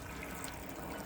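Water from a hose pours into an inflatable pool, a steady close rushing splash with no pauses or talk.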